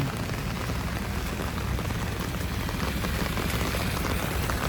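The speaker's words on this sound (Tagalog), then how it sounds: "Hirap kalaban ng ulan." Heavy typhoon rain from Carina pours beside the Marikina River, a dense, constant hiss of drops pattering on surfaces, steady and close, with no one talking.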